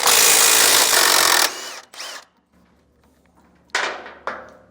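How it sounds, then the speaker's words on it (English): A power tool with a 19mm deep socket loosens U-bolt nuts on a 2020 Jayco Melbourne, first a loud sustained whirring rattle, then silence and two short whirring bursts. "So we'll just take a 19mm socket and make sure you have a deep socket so you can engage the nut."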